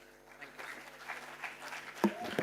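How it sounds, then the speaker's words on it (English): Audience applause at a university induction event welcoming the registrar, moderate clapping building under a faint background murmur, with a brief louder burst near the end. "A round of applause for sir."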